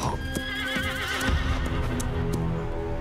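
A very large horse whinnies with a long wavering call while hooves clip-clop nearby, the neigh carrying over steady hoof and movement noise with no talking.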